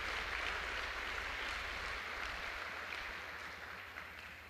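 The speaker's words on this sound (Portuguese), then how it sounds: "Pode aplaudir o Senhor, pode aplaudir" A church congregation applauds during a sermon. The clapping is soft and distant but steady, spreading across the room and fading slightly toward the end, with no voices over it.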